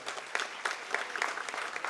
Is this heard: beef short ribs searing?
no